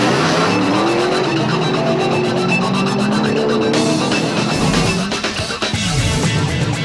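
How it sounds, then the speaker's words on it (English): Several rally race cars roar loudly and continuously along a short tar stretch onto a dusty dirt route near Sun City, engines revving with tire squeal and skidding, one car passing close near the end. "cars chased each other down a short section of tar before heading onto a route that was going to produce dust"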